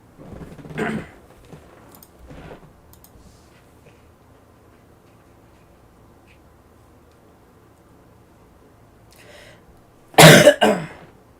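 A couple of soft coughs near the start, a long quiet stretch with faint ticking, then a loud burst of harsh coughing close by.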